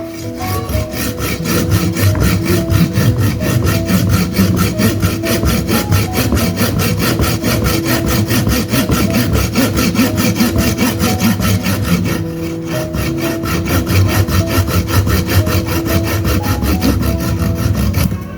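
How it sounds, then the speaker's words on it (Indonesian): A hand saw rasps through the wood of a Leucaena bonsai in steady, rapid back-and-forth strokes, loud and close, continuing almost without pause. "kalau ini kita harus menggunakan gergaji"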